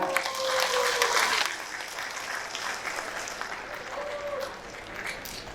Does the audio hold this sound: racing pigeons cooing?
no